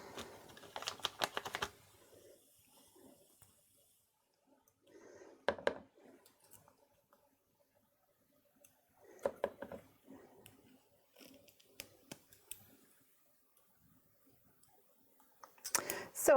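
Scissors snip out small paper craft pieces close by. Short bursts of crisp cutting clicks come in scattered clusters separated by quiet pauses.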